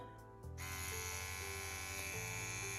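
A CNC WE wireless tattoo machine switches on and settles into a steady, faint electric buzz, a constant motor whine with a slight shift in pitch partway through.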